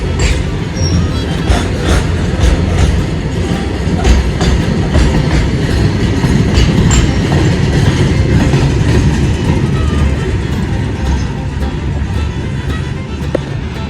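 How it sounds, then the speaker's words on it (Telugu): A Sainagar Shirdi train rumbles past close by at a station platform, a steady loud roar of wheels on rails with faint rhythmic clatter throughout and no talking. "చూడండి, ఇది మన ట్రైన్."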